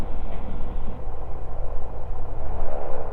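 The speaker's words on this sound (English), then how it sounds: "Bring the engine up." A gyroplane engine on the runway with the brakes held runs up to speed, giving a low, steady rumbling drone with pulsing throb close by.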